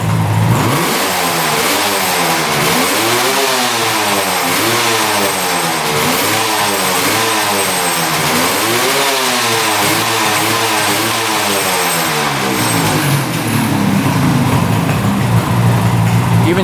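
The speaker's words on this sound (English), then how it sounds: "I believe it's running on all cylinders." A 1975 two-stroke triple engine, run again after sitting 40 years, revs loudly and close up in repeated rising and falling sweeps, then settles toward a steadier idle.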